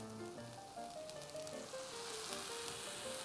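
Steady sizzling of soy sauce poured down the side of a hot pan of kimchi fried rice, a continuous crackling hiss with no voices, moderately quiet.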